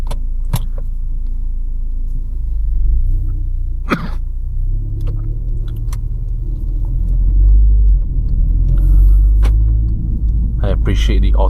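A Volkswagen Golf R Mk6 driving through town, its engine and road rumble steady and close from inside the cabin, with brief clicks and someone talking over the drone.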